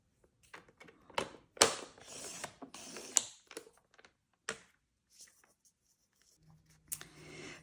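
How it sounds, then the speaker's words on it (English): Cardstock is scored lengthwise for a handmade card, giving a run of quiet, short scraping strokes and light clicks with pauses in between, close by and with no talking. "Now this one, we're going to score lengthwise at 1/2 inch."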